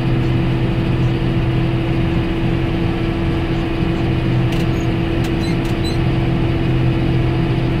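Steady, loud drone of a John Deere 6930 tractor engine heard from inside the cab, running in fourth half-gear at about 1600 rpm, with a strong low hum and a few faint clicks but no talk.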